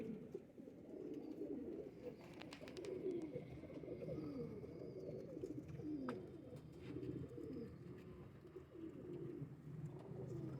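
A male pigeon coos continuously in low, throaty rolling phrases, close and fairly loud, layered with other birds. Faint flutters and clicks mark the background, and no one speaks.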